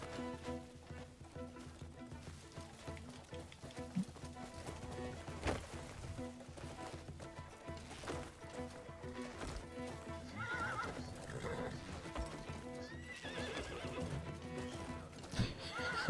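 A horse in the video game Crimson Desert neighs and whinnies during a taming attempt, several sharp whinnies over clip-clopping hooves and a layered game soundtrack, moderately quiet throughout with no talking.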